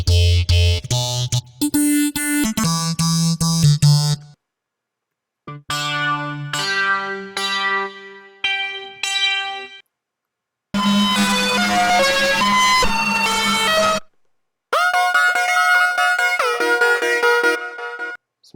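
Xfer Serum synthesizer plays several loud, bright sequenced patterns, rhythmic stabs and bursts separated by short silences, some bursts dense and buzzy, others choppy and plucky.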